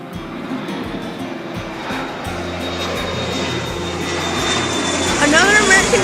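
An American Eagle regional airliner passes over a runway, a steady engine roar and whine growing louder as it approaches, with people talking nearby.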